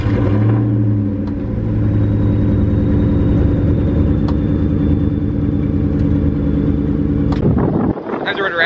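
A supercharged Ford Mustang engine idles and warms up before a rev battle exhaust competition, a loud, steady, throbbing rumble that holds evenly close to the microphone and then cuts abruptly near the end.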